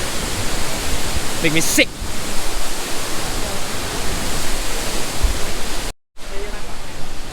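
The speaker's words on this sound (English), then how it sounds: "So we're about to walk up to the main waterfall area where the water falls down" A steady, dense roar of rushing water from the Klang Si waterfall fills the whole stretch without letup, with someone briefly speaking near the start and a short dropout near the end.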